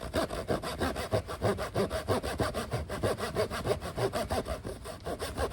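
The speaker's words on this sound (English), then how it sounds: "But let's saw in here and see how it goes." A hand saw cuts through a large wooden log in steady, rapid back-and-forth strokes, loud and close, with a continuous rasping rhythm and no talking.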